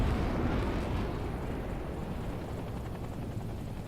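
A helicopter in the Hell Let Loose Vietnam video game gives off a loud, dense rumbling roar that stays steady and easing slightly over several seconds, with no speech.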